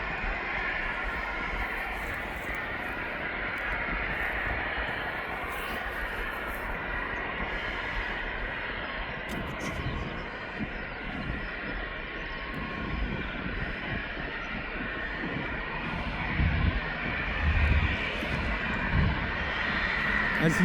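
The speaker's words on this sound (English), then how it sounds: "The Embraer Phantom is now making his way to the runway" An Embraer Phenom jet taxis toward the runway at East Midlands Airport, its engines giving a steady, broad whine and roar that holds for the whole stretch and swells slightly near the end.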